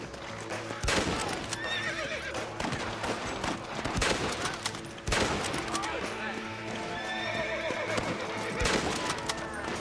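Red Dead Redemption horse whinnying and clip-clopping hooves as a rider stays mounted, mixed with bursts of gunfire, all heard under a player's talking voice.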